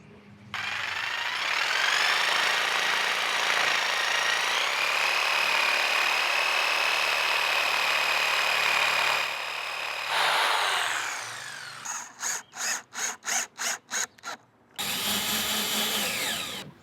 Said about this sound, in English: Then I'm going to take the jigsaw and I'm going to cut this out.